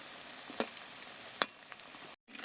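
Lentil fritters (dal bora) crackle in hot oil with a steady broadband sizzle, punctuated by two sharp clinks of a utensil, then a brief silence before the frying resumes.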